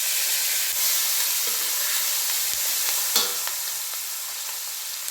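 Curry leaves and halved green chillies fry in hot oil for lemon rice, a continuous bright close sizzle with a few faint pops and a small stir knock.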